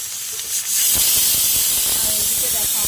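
Garlic goes into a pan of reddish-browned frying onions, and after a brief quiet moment a loud, sustained hissing sizzle takes over and continues steadily.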